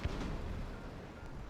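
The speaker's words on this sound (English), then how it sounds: "Sounds like somebody's diving on the airfield. You can hear missiles going off." Missiles detonating near an airfield in War Thunder, heard as a low, rumbling boom with a sharp thud at the start, sustained and muffled at moderate level.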